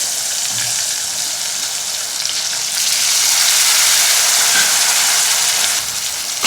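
Pieces of ridge gourd dropped into hot oil sizzle loudly and steadily, a dense hiss that swells partway through and keeps going without any talk over it.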